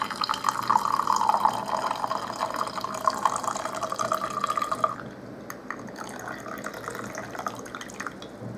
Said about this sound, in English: now we're gonna pour some out